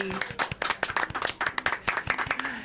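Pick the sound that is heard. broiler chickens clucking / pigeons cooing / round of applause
round of applause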